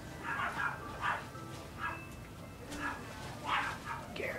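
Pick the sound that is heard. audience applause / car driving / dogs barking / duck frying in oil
dogs barking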